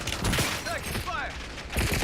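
Bursts of video game gunfire rattle through a squad-based online shooter, a volley near the start and another at the end, with scattered tonal whooshes between, all fairly loud and layered under game ambience.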